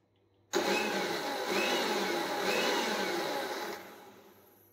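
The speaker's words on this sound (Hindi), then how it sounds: "हमें सिर्फ पल्सेस में ग्राइंड करना है" A mixer grinder whirring through milk and refined oil for eggless mayonnaise, starting abruptly, running loud and close for about three seconds with a slight rise and fall, then spinning down.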